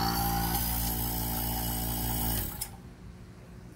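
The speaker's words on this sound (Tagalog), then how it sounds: "vacuum pump" Vacuum pump running during an air conditioner leak test, a loud steady mechanical whir that cuts off abruptly partway through, leaving a quiet room.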